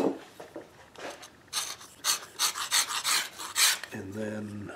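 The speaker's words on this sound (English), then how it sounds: "Now I'll just scrape a little bit of squeeze out off the surface." A tool scraping dried glue squeeze-out off the surface of a classical guitar rosette, a series of short rasping strokes up close, followed by a brief low tonal hum at the end.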